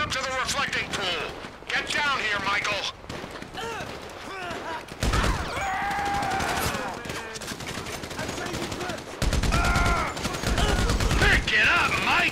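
Gunfire in Grand Theft Auto 5, with bursts of rapid shots and single cracks mixed with game voices shouting over the action, loud and busy throughout.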